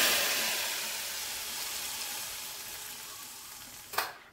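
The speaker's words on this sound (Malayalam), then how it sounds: "കടുക് വറുത്ത നമ്മൾ ഒഴിച്ചു കൊടുക്കുകയാണ് കേട്ടോ" Fried mustard seeds poured into an elephant foot yam theeyal curry give a steady, close, broadband sizzle throughout, capped near the end by a sharp louder hiss as the hot seeds hit the liquid.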